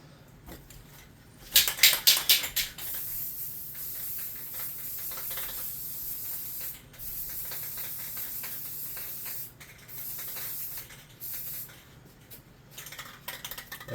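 Aerosol spray paint misted onto a small tabletop miniature figure of an ice mephit, with sharp hissing bursts of spray near the start followed by a steady softer hiss that carries through to the end.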